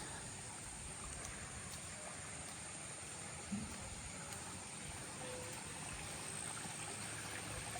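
Floodwater from a swollen river flows along a stream in a flooded village, giving a steady, continuous rushing wash that holds even throughout, with no voices.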